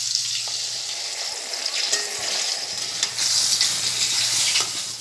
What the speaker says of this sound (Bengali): তেল দিয়ে ধোঁয়া উঠছে, এবারে বেগুনগুলো দিয়ে দিই। বেগুন দিয়ে দিয়েছি,